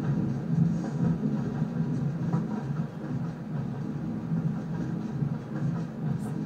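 Steady low rumble of a steam train in motion in Minecraft, a continuous droning hum with faint rattling, no clear breaks across the whole stretch.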